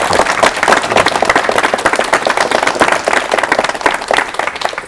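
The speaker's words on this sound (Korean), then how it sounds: "박수로 맞이해 주십시오" Studio audience on a 1985 Korean television talk show applauds a harmonica-playing storyteller as he walks on, dense steady clapping filling the room at full volume with no voices over it.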